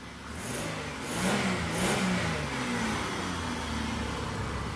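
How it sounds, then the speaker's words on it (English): A 1973 Cadillac Eldorado's engine revs up and settles into a deep throaty idle, heard at moderate volume without any talking. "this is the best sounding V6 in my mind. Listen to this."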